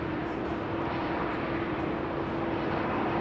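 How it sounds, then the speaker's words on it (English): A Vueling airliner takes off at Amsterdam Schiphol with a steady, broad jet roar and a low hum that holds level throughout, heard from a distance. "Taking off south of the intersection with the runway is Vueling"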